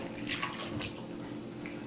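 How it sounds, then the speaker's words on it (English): Water pours steadily into a cooking pot of apples, about half a cup added while making homemade applesauce in a van kitchen, a soft continuous splashing trickle with no talk. "And then I'm going to add about 1/2 cup of water."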